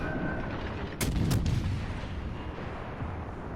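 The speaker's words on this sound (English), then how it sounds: "So anyway, we're shooting away." Naval guns of the IJN Yubari fire in World of Warships: Legends, a quick pair of sharp blasts close together with a rumbling tail over steady battle ambience.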